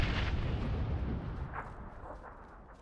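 A frag grenade in the video game PUBG ends in a deep, rumbling boom that fades away slowly across the whole moment, heavy in the low end and heard without any talk over it.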